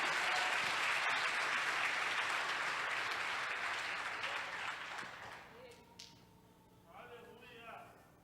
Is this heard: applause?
yes